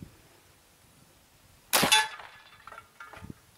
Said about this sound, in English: let's go ahead and fire the rest of this clip at that tranny pan